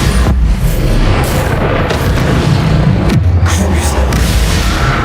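A Bombarda spell explodes in Hogwarts Legacy during a fight with spiders, a loud booming blast that fills the whole clip with dense, rumbling noise, with brief dips in the roar.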